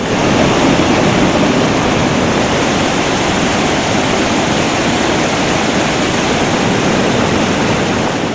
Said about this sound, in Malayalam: പാറക്കെട്ടുകളിലൂടെ ആർത്തലച്ചെത്തുന്ന വെള്ളം ഷിറിയ പുഴയിലേക്കാണ് ചേരുന്നത്